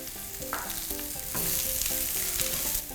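Straw mushrooms, shimeji and fresh shiitake sizzle and fry in a pan of hot garlic oil for a Thai oyster-sauce stir-fry, a steady close crackle with occasional stirring clatter and no talking.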